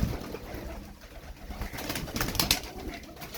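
Pigeons coo continuously at close range, a layered murmur of overlapping bird calls with soft rustling throughout and no talking.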